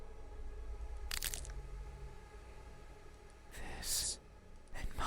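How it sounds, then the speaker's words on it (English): Close, crunchy cracking bursts of pieces breaking off, arriving as a few separate brittle snaps and crackles against a low rumbling background. "making a cracking sound as they go"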